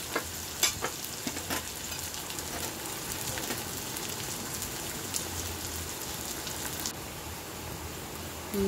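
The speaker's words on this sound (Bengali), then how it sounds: "নেড়ে ওটাকে ভালো করে ভাজবো" Steady, crackling sizzle of onions frying in a hot pan, with occasional scraping from stirring, continuous and close throughout.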